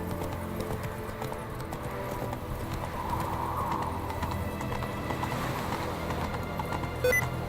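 A horse in The Witcher 3 gallops with a steady, rapid clip-clop of hooves running continuously at moderate loudness, a brief snort or whinny near the end.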